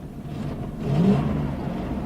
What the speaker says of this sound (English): this coach does have a pretty healthy exhaust leak